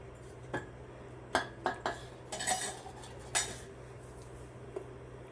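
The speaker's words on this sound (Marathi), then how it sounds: "आता हे क्यूब्स ह्याच्यात मिक्स करायचे आहेत" A spoon clinks and scrapes against a pot while buttermilk cubes for moong kadhi vada are stirred in, giving several sharp separate taps and scrapes over a faint steady background hum.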